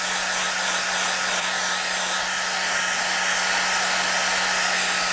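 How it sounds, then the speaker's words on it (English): A hair dryer blows steadily at close range, a constant broadband whoosh with a low hum, running without pause throughout. "Hair dryer, and off we go."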